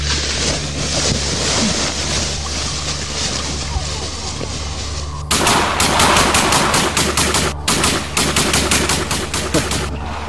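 A film shootout: rapid, loud machine-gun bursts break out partway through and repeat in quick volleys over a roaring wind-and-surf background, with shouting voices mixed in.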